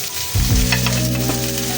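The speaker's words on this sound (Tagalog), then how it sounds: "Gisa-gisa lang po natin yan. Yung pong ating sibuyas." Onion sautéing in a hot pan as the base for coconut-milk tuna adobo, a steady close sizzle and crackle with occasional stirring scrapes, no voices.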